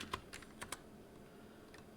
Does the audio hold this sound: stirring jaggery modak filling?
no